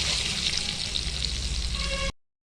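Tomato-cashew paste with cumin and dried chilli sautéing in a pan, a steady close sizzle with faint stirring that cuts off abruptly into silence near the end.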